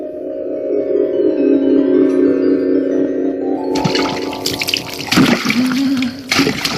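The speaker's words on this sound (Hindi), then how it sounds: "पानी तैयार है, नहा लो।" Bathwater runs and pours steadily, then splashes loudly as someone bathes, with sloshing bursts close by.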